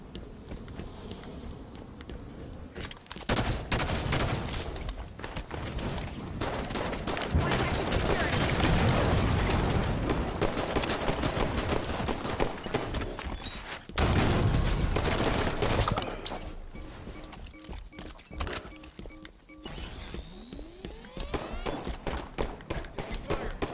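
A DMR rifle in the Halo video game fires in steady bursts of gunshots over loud, continuous game noise, with a short pause and a sharp restart partway through.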